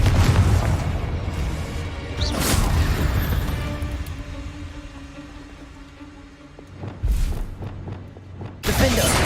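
The Confringo spell in the video game Hogwarts Legacy lands with a deep, rumbling boom, followed by sustained crackling game effects and more bursts toward the end.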